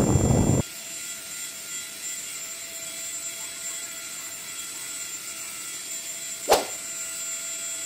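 A Both Tech handheld mini turbo fan runs at top speed, giving a steady high-pitched whine and airy hiss. A brief burst of noise comes just before it settles in, and a single sharp click sounds partway through.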